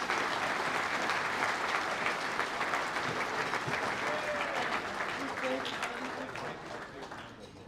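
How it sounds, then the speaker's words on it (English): An audience at a bodybuilding presentation night applauds as life members leave the stage, with dense, sustained clapping that fills the room and slowly tapers off toward the end. "Please, one round of applause for the life members as they walk off the stage."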